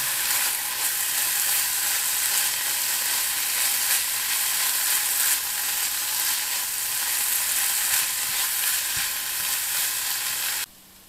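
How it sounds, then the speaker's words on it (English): Ground turkey for chili browning in a big pot, a loud, steady, dense sizzle that holds without a break for about ten seconds before cutting off abruptly. "So let me brown up the meat and I'll show you the next step."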